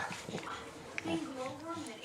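A dog gives a faint, thin, drawn-out whimper that rises and falls over about a second, partly buried under a person talking nearby.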